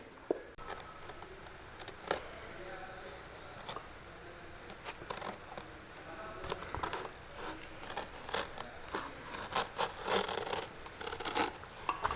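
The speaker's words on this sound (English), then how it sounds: "now we're just going to cut this excess leather off" Scissors or a blade cut away excess leather from a shoe during a rebuild, giving intermittent close snips, scrapes and rubbing sounds at a fairly quiet level, with irregular bursts and short pauses between them.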